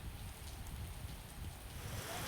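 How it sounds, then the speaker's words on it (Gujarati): Heavy monsoon rain falls in the evening in North Gujarat after a wind squall, a steady, even hiss of downpour, fairly faint and distant, with no voices. "દિવસભરના ભારે બફારા બાદ સાંજે મિની વાવાઝોડા સાથે તેજ પવન ફૂંકાતા વરસાદ શરૂ થયો"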